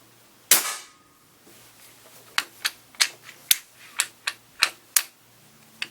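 Mac 357 air rifle by Invoairtech fired once, with a sharp, fairly quiet crack despite having no suppressor, followed by a string of lighter metallic clicks and snaps as the action is worked nearby.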